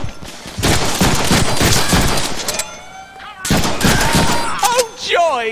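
Gunfire in the Deadpool video game, bursts of rapid shots and impacts over busy game effects, loud and close, with a break midway and warbling electronic sounds near the end.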